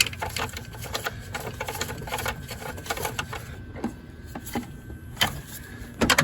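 Mounting bolts being run back into the intake manifold of a 2008 Toyota Tacoma, heard as a steady ratcheting clicks with a few sharper metallic taps, close and moderately loud under a low background hum.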